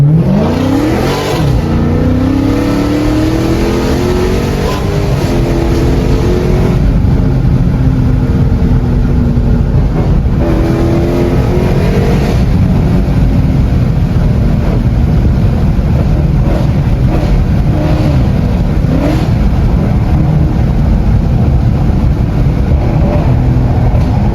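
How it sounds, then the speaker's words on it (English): A Dodge Challenger 392 engine roars loud and close as it revs hard and pulls through rising gears, the exhaust note holding strong and steady for the full stretch with no talking. "I'm gonna give y'all one more pull and this gonna be it, man."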